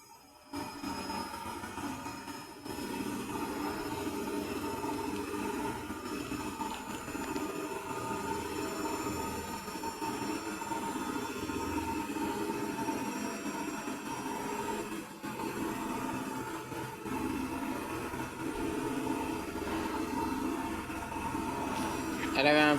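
An Electrolux W555H professional washing machine ramps up its spin toward about 1000 RPM, giving off a steady whirring drone with a rising tonal whine that holds throughout at moderate level.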